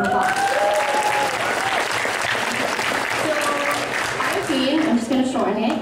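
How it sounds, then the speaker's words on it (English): Audience applause fills a conference hall, steady sustained clapping from a crowd, with a voice speaking briefly over it. "give him a round of applause"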